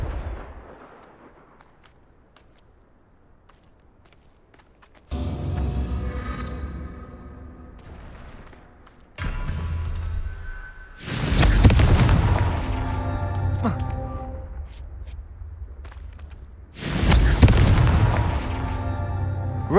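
Several Confringo blasting spells go off in Hogwarts Legacy, each one a heavy booming explosion. They come in separate bursts with rumbling tails after a quiet opening, and the later blasts are the loudest.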